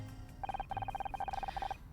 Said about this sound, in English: 1 second, I think that's my phone.